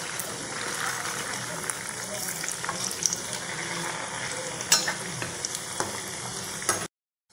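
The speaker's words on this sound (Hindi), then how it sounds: "सारे बॉल्स को यहाँ पे मैंने डाल दिया है, अब इन्हें हम फ्राई कर लेते हैं" Dough balls fry in a pan for a salt-free Thursday fasting meal, making a steady soft broadband sizzle with occasional light pops and clinks, close and moderate in level, before cutting to brief silence at the end.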